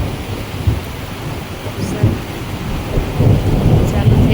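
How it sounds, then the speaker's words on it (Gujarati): A thunderstorm over Kedarnath in the Himalayas: heavy rain falls steadily while deep thunder rumbles and swells in several rolls, close and loud, with no one talking. "સંભળાય જ વરસાદ ગાજે."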